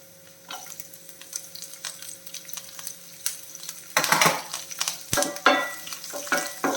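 Green chillies sauté in a pan for okra bhujiya: a soft, steady sizzle with light stirring scrapes that turns louder and busier partway through.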